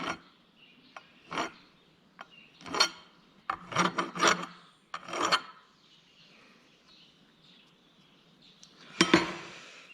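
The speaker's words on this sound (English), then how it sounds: "You just do that with a file here quickly." A metal file rasps across the edge of a cast metal die for blowgun dart cones, several short scraping strokes in bursts with pauses between, close up with no talking.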